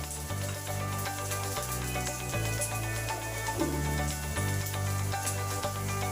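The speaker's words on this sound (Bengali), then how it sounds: "সামান্য পরিমাণ নুন দিয়ে দেবো যাতে এটা উচ্ছেগুলো তাড়াতাড়ি ভাজা হয়ে যায়।" Bitter gourd slices sizzle steadily in a pan with oil, a continuous crackling fry heard alone at moderate loudness, under a faint background hum.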